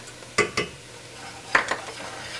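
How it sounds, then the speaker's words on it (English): Flour is stirred into tender cooked vegetables in a pot for cheeseburger soup, giving a few soft scraping knocks in two quick pairs over a low background hum. "So we're going to just stir that and make that a little bit of a paste."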